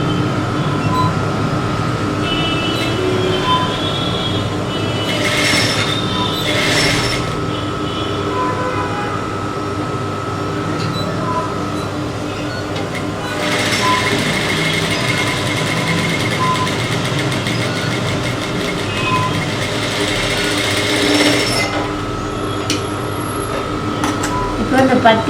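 Domestic sewing machine stitching the hook strip onto the back opening of a blouse, a steady mechanical whir running continuously throughout with a few brighter bursts, while someone talks over it.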